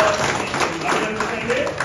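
Crowd applause at a public gathering in Vinukonda: a dense, continuous patter of many hands clapping for about two seconds, with voices mixed into the noise.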